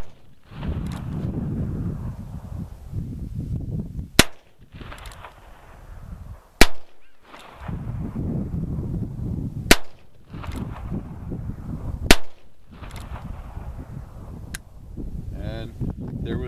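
A Heritage Rough Rider .22 revolver with a 3-inch bird's head grip firing high-velocity Blazer rounds outdoors: six sharp cracks spaced a few seconds apart over wind noise on the microphone.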